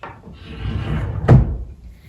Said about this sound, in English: The only thing I don't like about them is that the drawers are really loud.